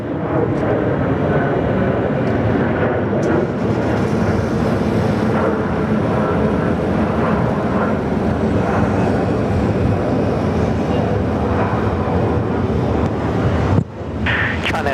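A plane takes off at Sydney Airport, a steady broadband jet roar held at high level through the whole stretch, mixed with wind buffeting the microphone, briefly dipping near the end.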